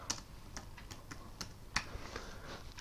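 Quiet keystrokes tapped on a computer keyboard while entering a search term, a sparse run of separate clicks with one slightly louder tap near the end, heard alone against a faint room hiss.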